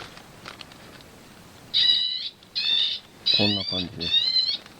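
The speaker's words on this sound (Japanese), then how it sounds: "今鳴いてるのは、 鳥よけの、 日本じゃいない 鳥の鳴き声です。" An electronic bird-deterrent device plays calls of a bird not found in Japan, set up to keep crows off Shine Muscat grapes: four loud, repeated, tonal chirping bursts, with a person speaking over the later ones.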